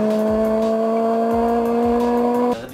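A Honda S2000 with its high-revving VTEC engine holds a loud, steady, strained engine tone close up that cuts off sharply near the end, with no speech.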